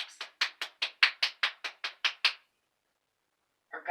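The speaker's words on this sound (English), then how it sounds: "one person claps" A single person clapping alone, about eleven sharp, evenly spaced claps over two seconds, then silence with a faint sound at the very end.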